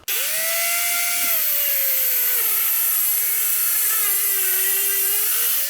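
A loud, continuous high whine of an angle grinder with a wall-chasing guard cutting, with a vacuum's steady roar underneath, pitch dipping slightly under load.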